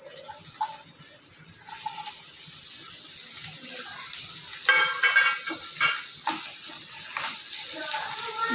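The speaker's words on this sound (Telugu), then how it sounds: "ఈ దాంట్లోనే కొంచెం ఆయిల్ వేసుకొని ఆనియన్స్ టమాటా అయితే ఫ్రై చేసుకుందాం" Onions and tomatoes frying in oil in a pan for a soya chunk curry, a steady close sizzle with brief stirring scrapes and crackles that grow busier toward the end.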